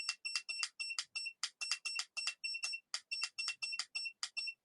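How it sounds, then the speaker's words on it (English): A timer set for a 25-minute writing sprint sounds off in a rapid series of high electronic beeps, about twenty short chirps in a steady rhythm, clear and close with no talk. "I'm going to go ahead and set the timer for 25 minutes."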